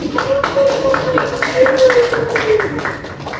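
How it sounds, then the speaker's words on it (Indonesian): A class applauds after a student speech presentation, dense clapping from a room of pupils mixed with chatter and a voice talking over it. "Oke, beri tepuk tangan tuh"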